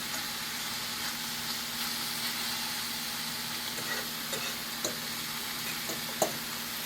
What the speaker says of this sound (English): Gotta turn the, turkey sausages over a little so they don't burn. And we want them to brown nice.